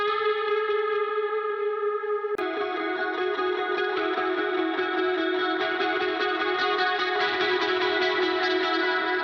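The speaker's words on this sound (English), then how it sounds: "I wanted to go with a bit crush sound for this to keep it a little bit more interesting rather than just a straight clean guitar" Guitar played through a bit crush effect, giving a gritty, digitally degraded tone with sustained layered notes that swell brighter after an abrupt change early on, steady and loud throughout.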